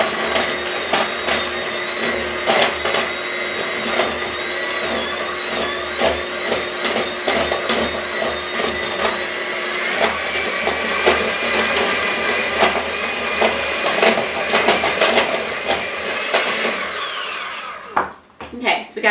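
An electric mixer whirs steadily through paleo chocolate chip cookie dough, its motor hum close and continuous with rhythmic thumps and scraping against the bowl, before cutting out and leaving a few clunks near the end.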